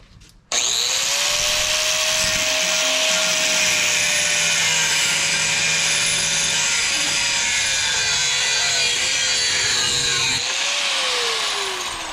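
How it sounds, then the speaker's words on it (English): A file strokes steadily across the burred edge of a freshly cut metal piece, producing a sustained close, loud scraping rasp with a faint ringing tone underneath that runs for about ten seconds and then fades. "Obviously has burrs on it, so we'll file it down."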